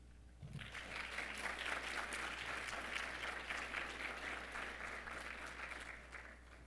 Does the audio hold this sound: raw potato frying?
no